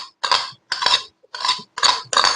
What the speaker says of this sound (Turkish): Bunları da bir güzel karıştırıyoruz.